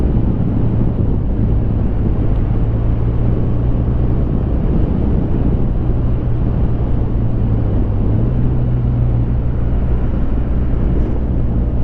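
Wind roars in a rider's microphone on a BMW R1200RT motorcycle, a loud, constant rushing buffet with a low engine hum steady underneath, no voices.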